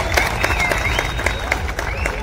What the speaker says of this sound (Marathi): जरा जोरदार टाळ्या